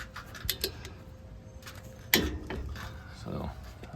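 A torque wrench tightens brake caliper bolts to 48 foot-pounds on a Ford Ranger 2.3 EcoBoost during a brake job, giving a few close metallic ratchet clicks and one sharp snap partway through, with faint workshop noise and speech around it.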